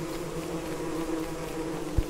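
Bees drone on without a break in Don't Starve Shipwrecked on a jungle island, a close, even buzz that holds for the whole stretch, with a single soft thump near the end.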